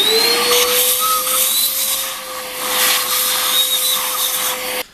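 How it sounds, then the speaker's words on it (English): A hoover vacuum cleaner sucks debris out of drilled holes in a turned wooden pen pot. It gives a loud, steady whine that holds for about five seconds and then cuts off abruptly. "now I can clear out the holes with a hoover"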